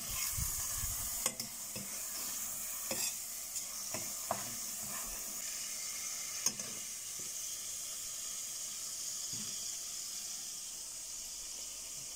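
Leek, chili and onions frying in a pan, a steady sizzle with scattered scraping stirs and a few sharp clicks of the utensil, close and unbroken by speech.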